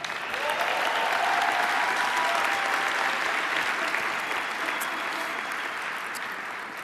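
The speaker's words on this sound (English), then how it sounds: "let's give them a round of applause" A round of applause rises from a live event audience, a steady, full wash of clapping that stays even throughout and eases only slightly toward the end.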